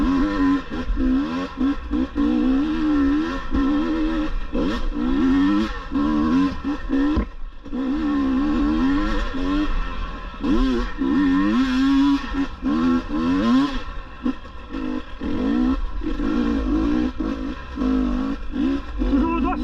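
A 2022 GasGas EC 300 two-stroke enduro motorcycle works up hard terrain, its engine revving and bogging in uneven bursts with clutch-feathered surges, loud and close throughout.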